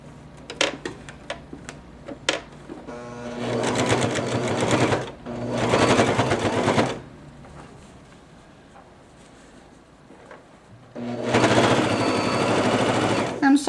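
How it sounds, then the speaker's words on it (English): A Babylock Jazz sewing machine top stitching two fabric edges together in bursts of rapid, even needle clatter, with a few isolated clicks and pauses in between, close up and mostly alone. "And I'm going to top stitch these two edges together again."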